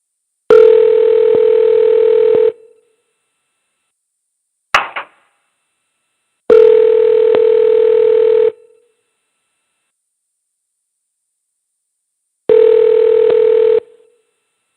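Telephone dial tone cutting into a call in three long steady bursts of about two seconds each, separated by silences, with a brief click-like blip between the first two bursts and no one speaking.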